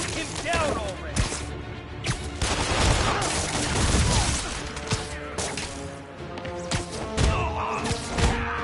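Gunfire in a Spider-Man video game: a dense, loud fusillade of overlapping shots and heavy thuds runs nearly continuously, with voices speaking over the barrage.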